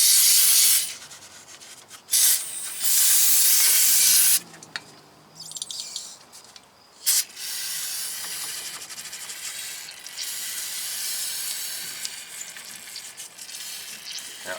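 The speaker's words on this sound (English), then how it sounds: "we're going to take the brake cleaner and we're just going to spray" Aerosol brake cleaner sprays onto a brake caliper piston of a 2004 GMC Sierra 2500 in several loud hissing bursts, then a softer continuous hiss follows, close to the microphone.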